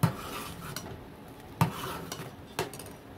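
A spoon stirs sabudana in a metal pot, with sharp scraping clinks at irregular intervals over a soft sizzle, close and alone without talk.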